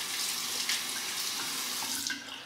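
Water runs steadily from a tap while a safety razor is rinsed during a wet shave, a close, continuous splashing hiss lasting a few seconds with no talk.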